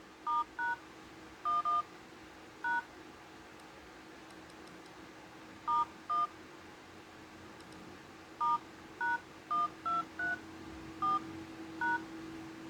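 A Samsung Spica I5700 phone places a call, sounding a quiet series of short dual-tone dialing beeps in irregular bursts, some doubled, spread over several seconds against a faint hum.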